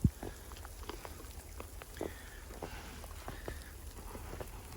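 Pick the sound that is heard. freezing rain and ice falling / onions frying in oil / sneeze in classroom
freezing rain and ice falling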